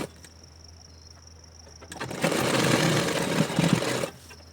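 Sewing machine stitching fabric shoulder seams, a close steady mechanical whir running for about two seconds after a brief click, then stopping, with no talk.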